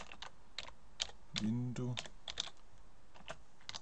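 Computer keyboard keys clicking in short irregular bursts while markup notes are typed into construction drawing sheets, close and fairly quiet, with someone speaking briefly in the middle.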